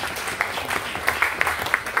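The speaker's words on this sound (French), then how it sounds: "Applaudissons quand même pour ce petit mot de bienvenue" A congregation at a thanksgiving mass applauds a short welcome speech. The clapping is brisk and continuous with sharp individual claps standing out, moderately loud, and nobody speaks over it.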